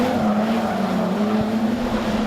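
Production sedan race car at Maryborough Speedway sliding sideways, a loud sustained engine drone with tire scrub throughout, continuous and close.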